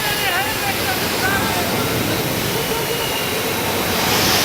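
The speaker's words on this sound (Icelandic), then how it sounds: "Nei, ég heyrði ekkert út af flugvélinni." Loud, steady broadband roar of an airplane flying close by fills the whole stretch without a break, with faint voices murmuring underneath.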